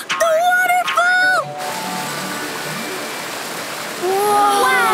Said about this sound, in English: Do you hear that? Is that a waterfall?